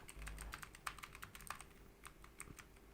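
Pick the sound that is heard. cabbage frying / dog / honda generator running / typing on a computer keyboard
typing on a computer keyboard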